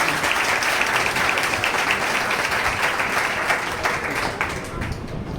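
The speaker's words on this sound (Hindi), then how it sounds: "आप लोग थोड़ा ताली से स्वागत करें।" Steady, full audience applause welcoming a teaching director at a coaching institute's Teacher's Day celebration, dense clapping sustained throughout and easing slightly toward the end.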